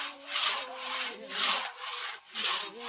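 A large hand saw cuts through firewood in steady, rhythmic back-and-forth strokes, with about four rasping pulls close by and no voices.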